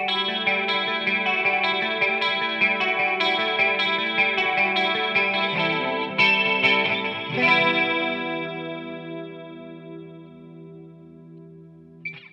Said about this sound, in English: We're going to hear our chorus going straight into this quadrant from Alexander without drive or anything else on